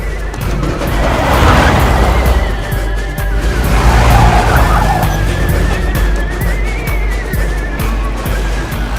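A car swerving recklessly at speed, with a sustained engine roar and long tire squeals rising and falling, loud and close, with faint voices underneath.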